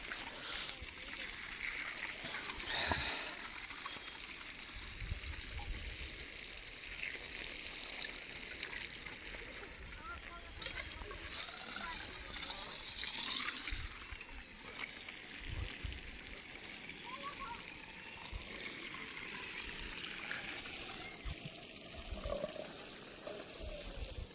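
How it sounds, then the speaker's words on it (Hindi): Cold early-morning water flows steadily through a garlic field during irrigation, making a continuous close rushing and trickling wash that stays even throughout, with occasional small splashes. "मैं फोकस करता हूँ लहसुन की सिंचाई पे।"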